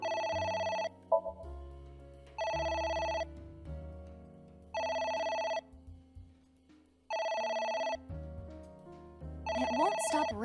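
A phone in the video game AI The Somnium Files rings in four long, evenly spaced electronic tones separated by pauses, clear and steady, with a voice briefly exclaiming at the end.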